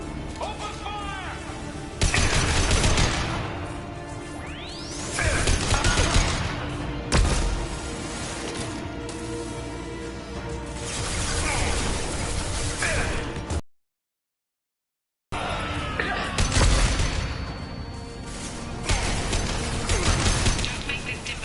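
Gunfire and crashing impacts in the video game Mass Effect 2 come in loud, chaotic bursts with sharp cracks and shattering. Voices are heard amid the fighting, and the sound cuts out completely for a moment before resuming.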